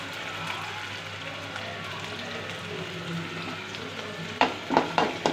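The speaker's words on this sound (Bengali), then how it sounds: "এখন আমি অন্য একটি হাঁড়ির মধ্যে তেল গরম করে এর মধ্যে দিয়ে দিচ্ছি একটি পেঁয়াজ" Onion frying in hot oil in a pot, a continuous soft sizzle throughout, then a few sharper scraping stirs near the end.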